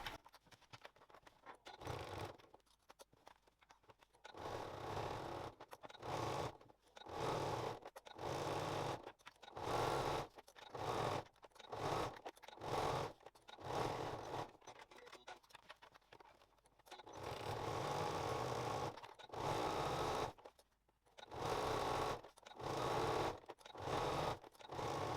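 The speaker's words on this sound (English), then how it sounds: "I'm going to take that to the machine and I'm going to baste down each of the long edges" A sewing machine bastes the long edges of a weekend bag in many short, steady runs of rapid stitching with brief stops between, close and consistent throughout.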